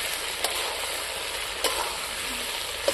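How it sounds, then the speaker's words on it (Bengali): Country goat mutton frying in a pan as its fat renders, a steady close sizzle with occasional sharp clicks of a utensil against the pan. "মাংসটা ভাজা হয়ে গেছে"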